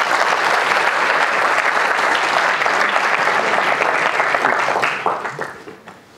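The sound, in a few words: students clapping and applauding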